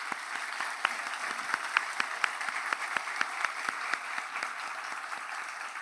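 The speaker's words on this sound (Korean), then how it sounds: "잠깐 일어나 주시면 박수로 환영하도록 하겠습니다" A church congregation claps to welcome visiting guests from a church in Bandung, Indonesia, during a Sunday worship service, steady moderate applause with distinct individual claps, fairly distant and soft, with no talk.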